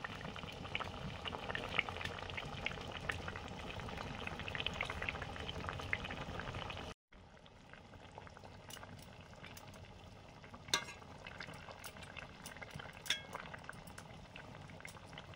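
Fish goes into a bubbling Bengali fish curry with kulekhara greens, giving a soft, steady simmer and sizzle with scattered pops and crackles, faint and close, with a brief drop in level partway through.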